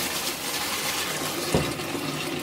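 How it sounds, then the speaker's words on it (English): Ramen broth strained out of an Instant Pot: a steady, close wash of pouring, splashing liquid runs throughout, with one brief thud partway through. "All I want to do now, guys, is strain this broth."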